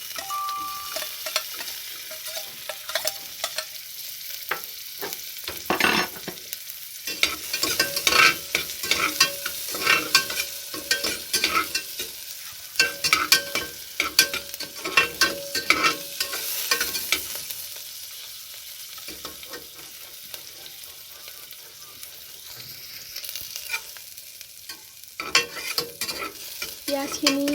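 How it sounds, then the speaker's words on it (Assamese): Sliced onions sizzle and fry in oil inside a pressure cooker, with a constant crackling hiss and repeated scraping stirs of a spoon against the metal pot, close and busy throughout. "গোল্ডেন ব্ৰাউন হোৱালৈকে ভাজি লৈছোঁ"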